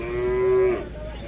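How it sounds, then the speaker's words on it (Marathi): A single Khillar cow lets out one short, close, steady moo lasting about half a second at a busy cattle market in Sangola, with quiet background murmur around it. "गाय बघू शकता, गाय शांत आहे."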